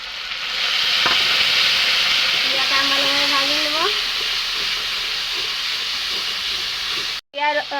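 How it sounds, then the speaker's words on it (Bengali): A ginger, garlic and onion paste fries in a pan with a loud, steady, close sizzling hiss that runs throughout, joined by a brief whistling tone midway and a short break near the end. "আদা রসুন আর পেঁয়াজ ভাজাতে ভাজাতে আমি এখন একটা পেস্ট তৈরি করে নেবো"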